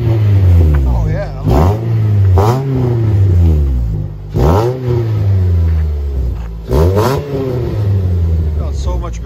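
A 2009 Mitsubishi Lancer fitted with a Flowmaster DBX exhaust and Vibrant resonator revs repeatedly, loud and close, each blip climbing in pitch then falling back to a deep idle rumble.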